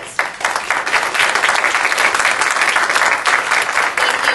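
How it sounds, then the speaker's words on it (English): An audience at a conference opening session applauds loudly and steadily, a dense wash of many hands clapping close by with no pause throughout. "I think we just owe them a round of applause"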